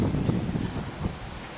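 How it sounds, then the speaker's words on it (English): Gusty wind buffeting the microphone on an outdoor nature walk by a lake, a low blustery rumble that rises and falls with no voices. "It's been a bit too windy."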